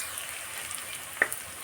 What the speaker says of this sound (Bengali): পেঁয়াজটা ভালো করে ভেজে নিয়ে তারপরে রসুনটা দেবো।